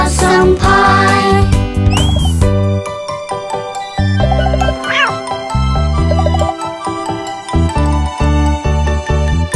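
Sung nursery rhyme with cartoonish cat meows set to bouncy music, several bright meow calls rising over the melody among tinkling accompaniment.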